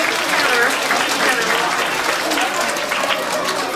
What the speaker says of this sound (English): Let's give these girls a big round of applause